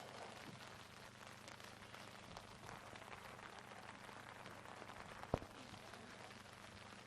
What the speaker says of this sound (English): the rain really coming down potentially as hard as it has all day